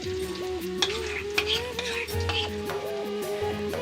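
Onion paste with ginger garlic paste sizzles and fries in a pan for a mutton kurma while a spoon stirs and scrapes it, with steady crackling, a few sharp clinks and faint background voices.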